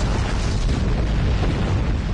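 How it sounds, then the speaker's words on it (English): A starship explodes in a Star Trek space combat video game, a loud, sustained rumbling boom that fills the whole stretch without letting up and with no voices over it. "Explosions cause damage. Put some distance between yourself and exploding ships."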